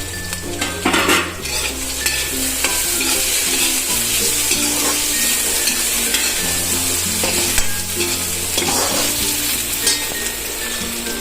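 Potatoes sizzle and fry in a hot pan for puva bateta while a spoon stirs them, loud, close scraping strokes over a continuous crackle, with no one speaking.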